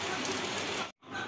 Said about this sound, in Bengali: ভালো জোরেই বৃষ্টি হচ্ছে।